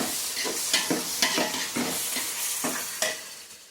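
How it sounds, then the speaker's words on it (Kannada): Chopped onion sautéing in a pan, a loud close sizzle punctuated by quick rhythmic stirring scrapes, several strokes in a row. "ಉಳ್ಳಾಗಡ್ಡಿ ಸೋತಾಕೋಬೇಕು"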